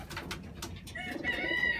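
A racing pigeon coos softly in a loft, a couple of short low calls, with a faint higher call from another bird near the end and steady background noise.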